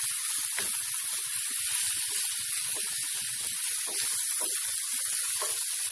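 Onion flower stalks fry in an open pan, giving a constant bright hiss and sizzle with small crackles and soft pops scattered through it.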